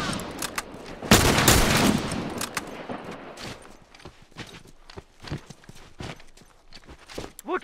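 Hunting rifle shots in The Last of Us multiplayer, several sharp bursts with one loud cluster near the start and scattered quieter cracks and footsteps following, with brief shouted voices.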